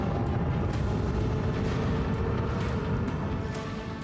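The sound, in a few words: macro cannons firing in Warhammer 40,000: Rogue Trader video game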